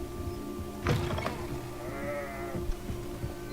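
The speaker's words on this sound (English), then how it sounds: "Definitely a goat." A goat in the Hogwarts Legacy video game lets out a couple of short, nasal bleats over a steady low game ambience, with faint mechanical clicks and thuds around them; no talking.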